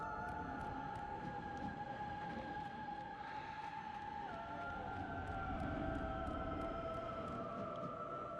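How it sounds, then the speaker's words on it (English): A steady wailing siren in the God of War video game holds a sustained tone that shifts pitch midway, continuous and fairly faint beneath game ambience with no talk. "Okay, so I can hear the siren."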